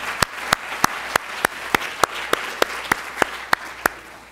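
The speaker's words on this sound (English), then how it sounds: "Yes, we should clap for International Women's Day." Crisp, evenly spaced claps ring out about three times a second over a quiet hall murmur at a women's lecture event on International Women's Day, rhythmic and fairly close.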